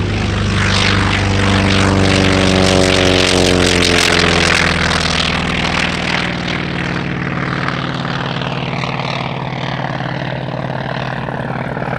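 A light propeller aircraft roars close by at full power on its takeoff run during EAA AirVenture Oshkosh, the loud engine drone holding steady and then the pitch sliding as it pulls away and fades slightly toward the end.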